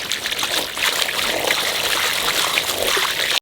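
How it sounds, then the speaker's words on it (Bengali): Tap water trickles and splashes steadily while a large river boal fish is washed, a close continuous running stream with no voices. "মাছের লালাটাও চলে যাবে ভালো করে ধুলে।"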